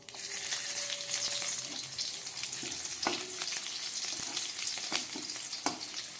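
Nigella seeds and four garlic cloves fry in hot oil for a jute-leaf dish, a quiet, steady sizzle broken by a few sharp clicks and scrapes of stirring.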